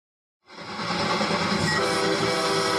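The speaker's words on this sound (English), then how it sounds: "That's an aggressive train." After a brief silence, a train roars in abruptly and keeps rumbling loudly and continuously close by, with a faint tonal whine riding over the rolling noise and no voices.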